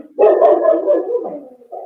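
A dog caught on a security camera gives a drawn-out, wavering bark that slides into a whine, loud and fairly close, followed by a brief short yelp.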